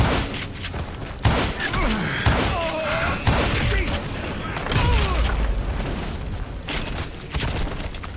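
Call of Juarez Gunslinger gunfire fills a dense firefight, with repeated booming shots and thuds over a constant roar of battle. Voices shout in the middle of it.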